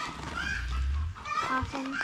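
Geese kept on a farm with goats and quail honk close by in a brief burst of several calls, loud and nasal, with farmyard noise beneath.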